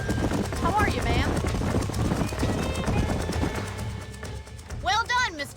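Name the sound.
horse hooves clip-clopping, from video game Red Dead Redemption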